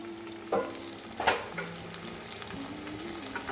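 Meat and turnip curry (shaljam gosht) frying in a pot, a steady close sizzle with a few sharp stirring scrapes and clatters against the metal.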